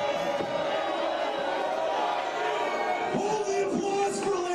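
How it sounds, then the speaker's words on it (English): A wrestling crowd cheers and shouts in a steady, dense roar, with voices and whoops rising over it and some louder yells near the end. "Hold the applause for later."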